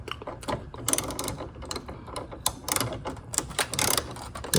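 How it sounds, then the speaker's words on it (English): Ratchet clicking rapidly while loosening the 10 mm negative battery terminal on a Honda Ridgeline, close and loud with a fast uneven rhythm and brief pauses between bursts. "we're gonna remove the negative battery terminal first"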